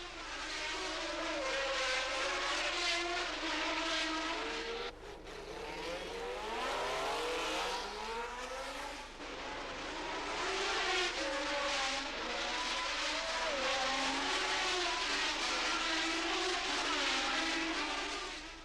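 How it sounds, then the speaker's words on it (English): 1977 Formula 1 race cars, a Cosworth V8 leading Alfa Romeo flat-12 cars, scream past in a sustained high-pitched roar, with engine pitch rising and falling as they pass, loud and continuous. "leading 3 12-cylinder cars in hot pursuit of the Cosworth V8"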